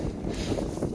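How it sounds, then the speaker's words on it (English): Wind buffets the microphone in a low, continuous rumble on a high Pacific Crest Trail viewpoint, with no voices. "It's a little windy up here."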